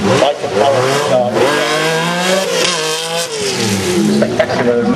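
Austin Rover 3-litre 90-degree V6 rally car of 410 horsepower, its engine revving hard with rising and falling pitch sweeps, loud and close throughout, with a voice talking over it.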